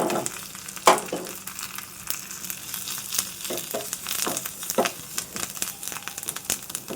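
Turmeric and asafoetida tempering crackles in hot oil for a Telugu raw ivy gourd and tomato chutney, a steady close sizzle with sharp pops and a few louder spits, no talking.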